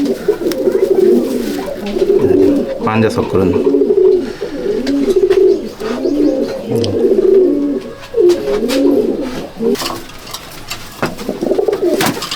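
Pigeons in a competition pigeon loft coo repeatedly in low, throaty rolling phrases, close and loud, with wing flutters and scuffs, while someone talks briefly over them.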